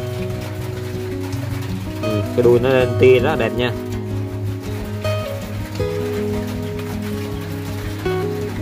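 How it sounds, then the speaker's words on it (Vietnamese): Rain falls steadily outside as a continuous noisy wash beneath close speech and music, setting a busy backdrop to a guppy fish sales session. "hiện tại trời đang mưa nha các bạn, trời đang mưa. Thì nó hơi ồn xíu nha"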